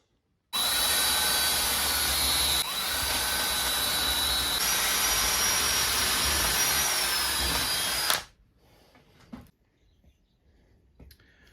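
A power drill with a 16.5mm bit whines steadily at high speed for several seconds, then cuts off abruptly, leaving faint rustling and small clicks.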